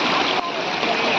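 Rushing river water surges during a rafting trip in Rishikesh, a dense, steady roar close by with a brief dip partway through and voices faintly mixed in.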